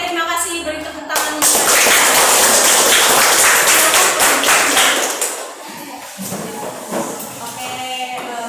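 Students in a junior high school classroom break into a burst of loud group clapping after a morning assembly, building fast and dense before thinning into scattered claps and chatter.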